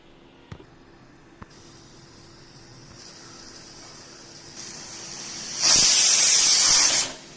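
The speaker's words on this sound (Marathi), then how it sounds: "भाजी झटपट होण्यासाठी कुकरची एक शिट्टी करून घ्या" A pressure cooker cooking sprouted masoor releases steam, faint hissing that grows louder before a strong, loud whistling blast near the end; a couple of small clicks come early.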